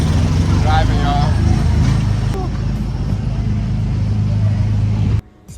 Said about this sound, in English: Driving, y'all.